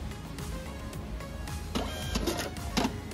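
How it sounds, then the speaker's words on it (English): A kitchen receipt printer in a restaurant point-of-sale setup prints an order ticket, with bursts of rapid mechanical buzzing and clicking as it feeds and cuts paper, heard close and alone. "it is printed out on the kitchen printer via the virtual IoT box that is resident within this computer"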